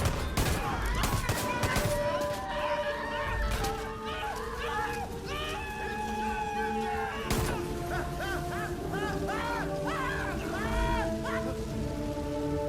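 Rapid bursts of gunfire in Far Cry 5 crackle through a dense, busy game soundtrack, loud sharp shots clustered early and again midway, with a voice talking over the din.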